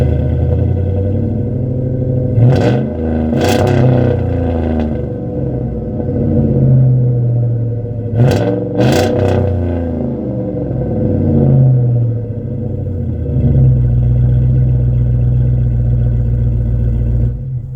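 Bus engine with a Flowmaster open exhaust idling loud and close, a deep steady rumble with two pairs of sharp revs, then settling back to a throaty idle.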